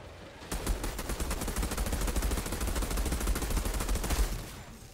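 Rapid automatic gunfire in the Outriders video game hammers out a long, steady burst of closely spaced shots that stops abruptly after several seconds.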